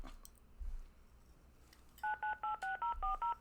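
Telephone number being keyed in as DTMF tones: seven quick evenly spaced beeps in a row, clear and close, after a few faint clicks and low thumps.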